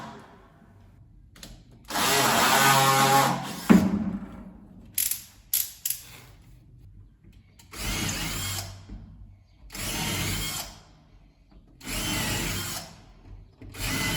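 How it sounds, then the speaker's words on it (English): A power drill bores holes for four flathead bolts that secure a lock bolt on a farm door frame, heard as several loud, close grinding bursts of a few seconds each, separated by quieter pauses and brief knocks. "the holes needed to be drilled to put the four flathead bolts that were required to secure the bolt"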